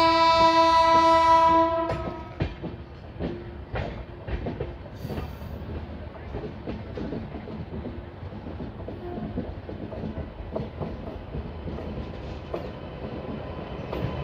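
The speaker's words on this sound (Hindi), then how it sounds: "हमारी ट्रेन जो है वो पहुंच रही है गाजियाबाद जंक्शन पर" The Lalkuan-Bandra SF express arrives at Ghaziabad Junction, opening with a loud horn blast followed by steady clickety-clack of wheels over rail joints and a continuous rumble heard from on board.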